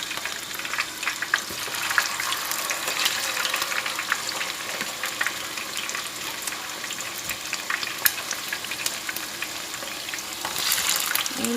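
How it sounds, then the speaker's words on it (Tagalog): Chicken wings frying in hot oil for homemade hot wings, a steady crackling sizzle with scattered sharp pops that holds at a fairly even level and swells slightly toward the end, heard close with no talking. "Mainit yung mantika."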